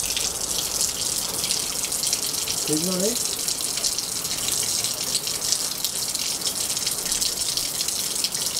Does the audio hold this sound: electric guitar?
no